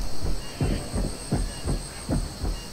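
A heartbeat from the video game ARK, about six slow, evenly spaced low thuds over a steady electronic hum, close and fairly loud.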